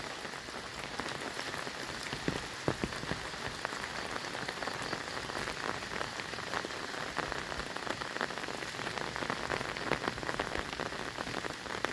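Heavy rain and wind during a storm in Laos pour steadily, a dense continuous hiss with scattered sharper drop impacts throughout, no voices.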